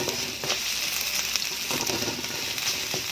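Whole red chilies sizzle and crackle steadily in hot oil, a close, continuous frying hiss with occasional faint stirring sounds.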